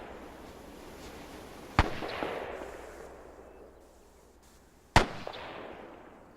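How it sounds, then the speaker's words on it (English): Two loud gunshots crack at a shooting competition, several seconds apart. Each one leaves a long, fading outdoor echo over quiet ambience. "more shooting going on"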